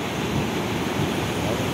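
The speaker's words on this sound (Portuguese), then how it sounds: "Altas ondas." Big sea waves at Ubatuba roll in with a continuous, heavy rushing roar of surf, loud and close, in a brief stretch with no break.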